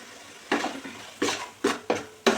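Large prawns being stirred in a pot for prawn pulao, giving four or five separate scraping, clattering strokes of a utensil against the pot, close and fairly loud with short pauses between them and no talk.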